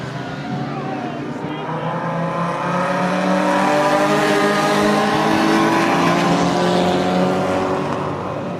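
A pack of race cars accelerates on a green-flag restart at Winston Speedway, engines roaring together in a dense, rising wall of sound that swells toward the middle and stays loud.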